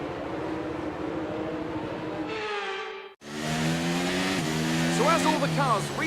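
Formation-lap engine sound from the F1 23 game: a steady, loud drone of Formula 1 cars, a brief cut to silence, then a louder engine roar with shifting tones and rising revs.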